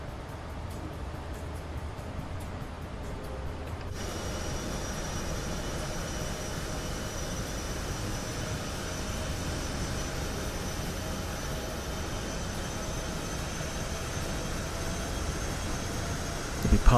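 Engines of a Boeing 737 MAX in the MSFS2020 flight simulator during descent, a steady broadband roar and whine with flaps extending, constant and even from start to finish.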